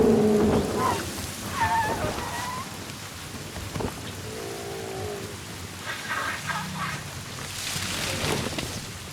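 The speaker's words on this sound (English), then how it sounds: "the bands of rain are finally sweeping in." Rain sweeps across the dry savanna of northern Kenya, a soft continuous patter on the ground with faint distant rumbles and a few scattered bird calls, no voices.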